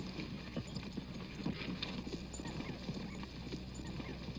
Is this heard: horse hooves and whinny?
yes